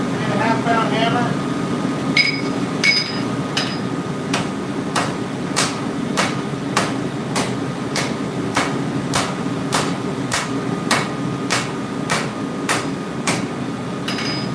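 A big 3 to 3.5 pound hammer strikes hot steel at a forge while a hidden tang knife is shaped, about twenty sharp metallic ringing blows in a steady rhythm over a low background hum.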